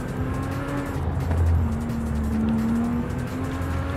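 A racing car driving in Forza Horizon 5, a loud close engine holding steady revs with gear changes and tire squeal through a turn, nothing else heard.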